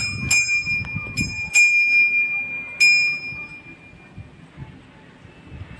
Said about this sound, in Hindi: अरे घंटी बजा रही है,